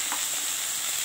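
Vegetables fry in a pan with turmeric and salt for Bengali shukto, giving a steady close sizzle with faint stirring scrapes over about a second, no voices.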